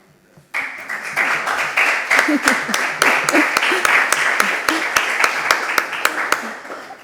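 Applause from a lecture audience starts abruptly after a brief pause and carries on as a full, steady patter of clapping, with a few sharp, louder claps standing out.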